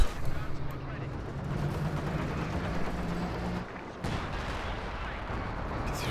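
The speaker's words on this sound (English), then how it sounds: "that was actually quite a long-range barrage" Artillery barrage in Company of Heroes 2, a 3v3 match: a dense rumble of distant shell blasts and gunfire runs continuously, with a brief dip near the four-second mark before the explosions resume.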